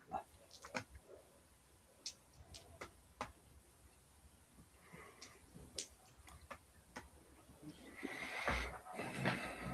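A horse whinnies as a sound effect in a tabletop role-playing game, rising near the end over scattered clip-clop ticks and faint background noise, with no voices.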